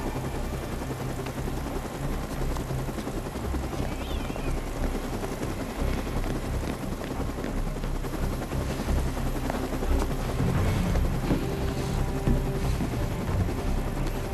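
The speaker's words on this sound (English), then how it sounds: "Get back on the chopper!" A rescue helicopter in the video game Dead Rising 2 gives a continuous thick rotor drone that runs the whole time, loud and even, growing slightly heavier toward the end.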